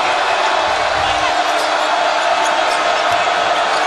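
Crowd noise fills Littlejohn Coliseum during a Louisville vs. Clemson college basketball game, a loud, steady din of many voices with faint ball bounces underneath.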